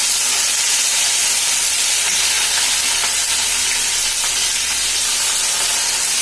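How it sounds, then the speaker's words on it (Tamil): Garlic and greens (pulichai keerai) sautéing in hot oil, a loud, steady crackling sizzle with bursts of spitting, close and continuous throughout with no talk. "எண்ணெய் ஹீட் ஆகிடுச்சு. இப்போ பூண்டு போட்டுக்கலாம். கொஞ்சம் கொஞ்சமாக வதக்கி அப்படியே கீரை வதக்கி வச்சுட்டு போட்டுட்டே இருக்கலாம்."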